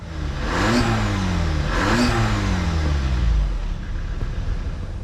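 A car engine revs up twice, pitch climbing and falling each time, then settles to a low idle rumble, close and loud.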